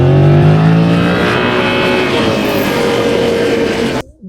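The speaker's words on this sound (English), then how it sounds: "Acceleration of the bike, typical CP2, very responsive" A 2025 Yamaha MT-07 with its CP2 parallel-twin engine pulls hard under acceleration, a loud, steady rising drone heard close for about four seconds before cutting off abruptly.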